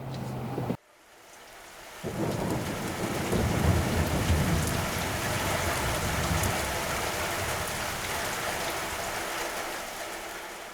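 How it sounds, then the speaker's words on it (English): Heavy rain pours down on a building site, a sudden click cutting to near silence before a dense, loud hiss of downpour builds and holds steady. "it's bouncing down, the rain's not stopped and it doesn't look like it's going to be going anywhere anytime soon"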